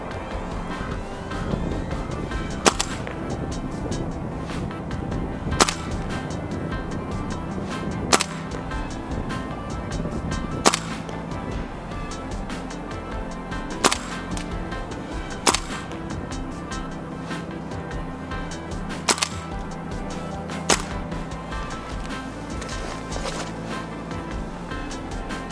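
Airsoft guns, a custom VFC HK417 DMR with a 20-inch barrel and a KWA SR7, fire at an outdoor carnival shoot. Sharp single shots snap out every few seconds over steady wind and background noise.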